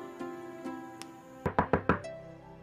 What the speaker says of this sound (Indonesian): kayaknya ada yang ngetok pintu ya?